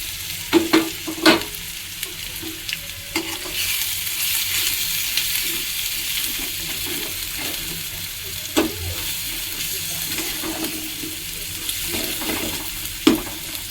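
Fish in a pan with salt, turmeric and chili powder being stirred, giving a steady close sizzle of frying with scattered scraping and clinking of a spoon against the pan, no voices.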